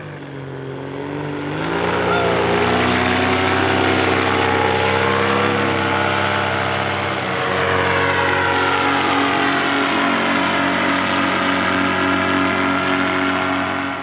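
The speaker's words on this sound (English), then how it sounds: "It's always fun to hear your own motor from the ground." A paramotor engine flies overhead, heard from the ground as a loud, sustained buzzing drone. Its pitch rises and shifts as the aircraft passes and keeps roaring throughout.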